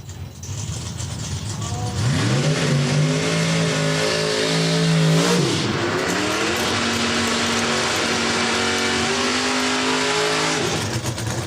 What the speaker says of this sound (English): Winlight to the Mustang, one of our new entries into the facility.